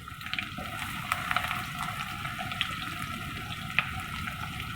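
Finely chopped onion frying in oil in a karahi while being lightly browned for a lamb karahi, giving a steady, close sizzle with faint crackles and no talking.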